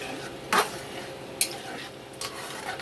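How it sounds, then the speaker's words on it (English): A spoon stirs a pot of simmering beans and rice, giving a few separate metallic clinks against the pot over a low, steady kitchen background. "I'll give this a good stir before I close it up and let it slowly simmer."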